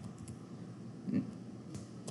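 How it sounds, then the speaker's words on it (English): Computer keyboard typing while entering a spreadsheet formula, a few soft, close key taps over quiet room noise. "typing an equal sign"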